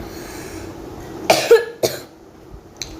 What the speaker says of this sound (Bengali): সরি, একটু কাশি